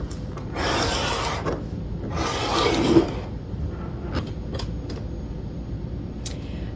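Quilt fabric being cut along a ruler: two short rasping strokes of the blade through cloth, close and fairly soft, followed by faint light clicks and handling noises in a quiet room.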